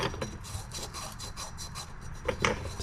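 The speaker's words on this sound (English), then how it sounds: "I'm going to take a little piece of emery cloth in here just to scuff that up." Emery cloth rubs over a metal part on a Nissan Titan during water pump and thermostat work, making quiet, close, rhythmic scuffing strokes in quick succession.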